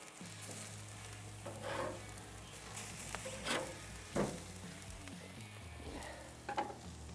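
A reverse-seared steak sizzles and crackles steadily in a hot pan just after it is flipped, a quiet continuous frying hiss with a few louder pops and spatters and no talk.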